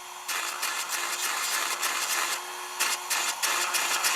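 A file rasps against a chainsaw chain in quick, repeated strokes of even rhythm, close and fairly loud, with no talking.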